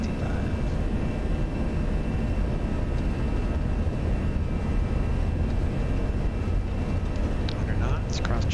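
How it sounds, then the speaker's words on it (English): Airbus A320 jet engines at takeoff power in X-Plane 11, a steady loud broadband roar with deep rumble rolling down the runway, sustained without a break. "Engines stable. Takeoff power is set."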